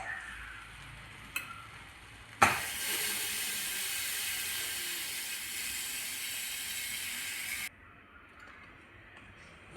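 A pressure cooker whistle on a pot of sambar gives a sudden sharp release, then a loud steady hiss of escaping steam for about five seconds before cutting off to a quiet background.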